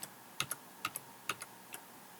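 Ctrl and Y keys pressed on a computer keyboard, a handful of crisp, quiet clicks in quick pairs spread evenly over about two seconds, close up with no talking.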